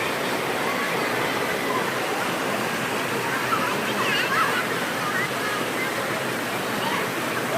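Hin Lad waterfall on Samui roars in a steady, dense wash of falling water that fills the whole stretch without pause, loud and close.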